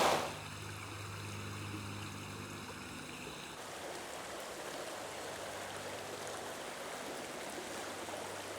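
The River Mells in Somerset flowing by the village of Mells, a steady, soft rushing and babbling of water that continues evenly throughout, with no voices.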